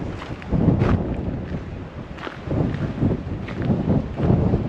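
Strong wind buffets the microphone on a clifftop summit at Howth, a loud rumbling roar that swells and eases in gusts with no talk.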